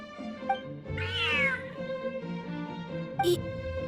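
A cat meows in the video game Genshin Impact, one drawn-out rising and falling meow followed by a brief chirp, set over a steady tonal musical background.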